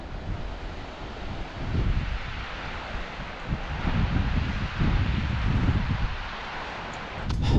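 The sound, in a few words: river flowing in the mountains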